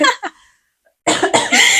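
A few sharp coughs up close, followed after a short pause by a louder burst of coughing and throat noise.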